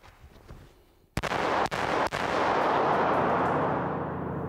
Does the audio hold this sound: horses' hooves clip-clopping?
no